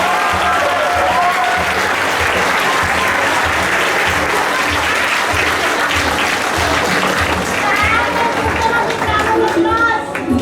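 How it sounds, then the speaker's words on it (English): Loud applause from a school assembly crowd of students, dense continuous clapping mixed with cheering and children's voices throughout, close and energetic with no pause. "get them a big round of applause."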